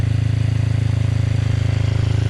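A Honda CRF50 with an 88cc big bore kit idles a little high, a steady, rapid, even putter droning loud and close with no other sounds.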